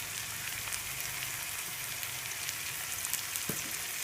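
Asafoetida sizzling in hot oil for Srirangam puli injee, a steady close frying hiss throughout with a faint clink near the end, no talking.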